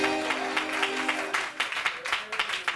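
A church congregation claps during a sermon. The clapping is rhythmic and fairly close, with a voice speaking over the steady beat.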